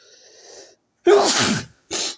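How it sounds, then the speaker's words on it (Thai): A man sneezes loudly and close up, a sharp burst followed a moment later by a shorter second burst, with a faint voice just before it. "โอ้ผมจามครับ"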